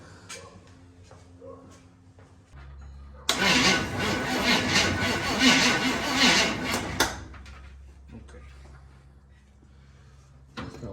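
A 1968 Chevrolet C10 pickup with a stuck carburetor float, flooded with fuel, cranks loudly for about four seconds as the starter churns without catching, then falls back to quiet idle-like rumble and handling noises.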